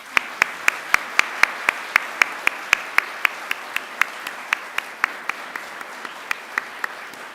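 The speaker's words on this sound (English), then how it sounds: "I'd like you to give them an almighty round of applause." Clapping during a university graduation ceremony at Macquarie: crisp, evenly spaced claps, about four per second, close and clear, with no voices.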